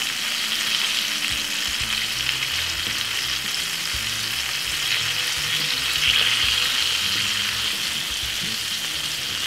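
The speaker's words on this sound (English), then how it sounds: "One of the best way you could ever fry fish at home." Jamaican escovitch fish fries in hot oil with a steady, close, continuous sizzle and crackle, no voices over it.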